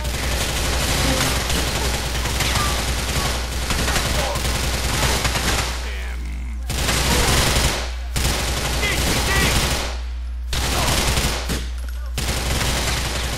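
Sustained machine gun fire in the video game GTA IV, dense rapid bursts broken by a few short pauses, loud and close throughout, with faint talk underneath.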